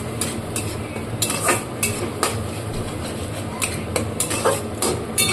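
Poppy seed paste thinned with water goes into a hot wok (karai) for an egg posto dish. A steady sizzle fills the pan while a spatula stirs and clinks against the metal, with no talking.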